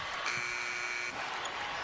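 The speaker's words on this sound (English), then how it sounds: "play on through the shot clock buzzer because it hit the rim" A shot clock buzzer at a women's college basketball game between Tennessee and South Carolina sounds as one steady, loud tone for about a second over crowd noise in the arena, then cuts off.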